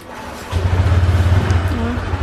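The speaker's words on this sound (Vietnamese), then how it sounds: "Lúc này mình nổ máy lại bình thường nha." A 2018 Honda Vario scooter engine starts and settles into a pulsing, close idle with a rhythmic low throb, loud and steady.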